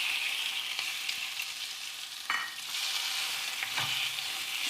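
Shrimp fry in butter in a wok for homestyle fried rice, a loud, bright, continuous sizzle close up, with a few spatula scrapes and clatters breaking through.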